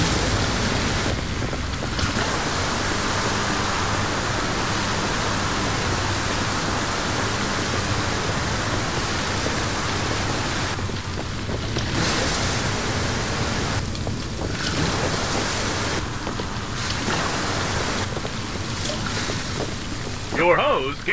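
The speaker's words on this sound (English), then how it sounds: "Use the Ember fire suppression hose to cut a path across." Water from a fire suppression hose in the Ember firefighter game sprays in a steady, loud broadband rush that runs almost continuously, with a few brief dips, and voices appear to come through in places.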